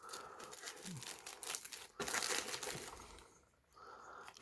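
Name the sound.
cutting open a fountain pen package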